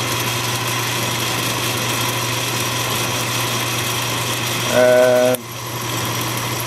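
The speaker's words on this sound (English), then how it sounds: "Oil up the lead screw a little bit and run the length of it." An Atlas/Craftsman 618 metal lathe runs steadily with its oiled lead screw turning, a constant mechanical hum with a short louder whine near the end before it drops off; a brief spoken word is heard.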